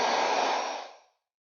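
Hair dryer blowing close and loud on a painting, a steady rushing whoosh that cuts off and fades to silence after about a second.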